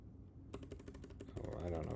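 Computer keyboard typing sounds as a quick run of clicky keystrokes, close and fairly loud, beginning after a brief quiet moment, with a voice talking underneath.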